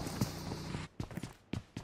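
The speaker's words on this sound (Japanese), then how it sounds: "足音。" Footsteps in a video game, a few quick thudding steps in short bursts, close and fairly quiet.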